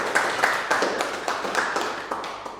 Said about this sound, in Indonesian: Tepuk tangan untuk Pak Diagi, kita beri aplaus.